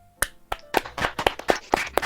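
A small group claps in a loose, uneven rhythm, roughly eight or nine distinct sharp claps spread over two seconds, close and fairly loud.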